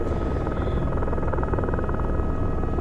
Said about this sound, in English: This helicopter is available to the PLA Air Assault and Combined Arms